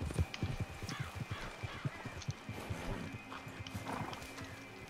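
A horse whinnies in Red Dead Redemption 2 amid a steady clatter of hooves and scattered game sound effects, fairly quiet and close.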